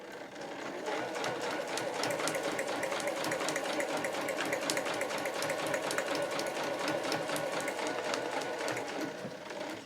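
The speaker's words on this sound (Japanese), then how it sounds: "そしたらこの布の端を揃えながら縫っていきます。" A home sewing machine runs steadily through 8-oz canvas with a 3.0 stitch length, a fast even needle clatter with no pauses, close and moderately loud.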